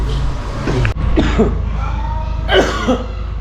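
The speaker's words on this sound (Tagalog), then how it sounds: "Parehas na naman kaming inuubo" Two people cough loudly at a restaurant table while waiting for a barbecue combo order, with bursts near 1 and 2.5 seconds over steady room noise and chatter.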